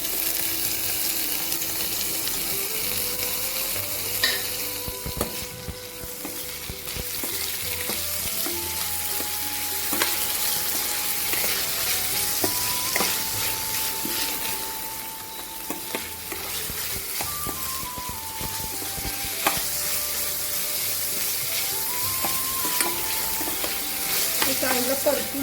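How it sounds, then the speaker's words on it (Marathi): Onion sautéing in a pan gives a continuous close sizzle with repeated scraping stirs of a spatula, the frying hiss steady throughout while faint tonal hum runs beneath. "चांगलं परतून घ्या तुम्ही पहिल्यांदा कांद्याला"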